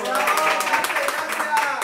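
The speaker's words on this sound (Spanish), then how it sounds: "Un aplauso entonces para Marce." Applause for Marce during a live Spanish-language show, a short burst of many hands clapping densely and steadily, with voices talking over it throughout.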